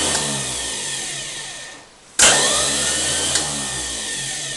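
A starter motor triggered by its solenoid whines loudly, winds down briefly, then kicks back in with a sharp click and keeps spinning at a steady high pitch, close and alone.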